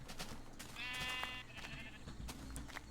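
Sheep in a video game let out a single clear, wavering bleat over a soft, steady background murmur.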